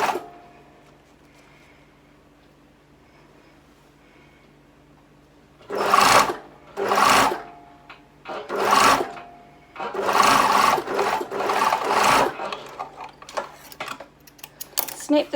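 A sewing machine stitches stretchy linen with right sides together in several short bursts of close, rapid whirring, separated by brief pauses after a quiet start.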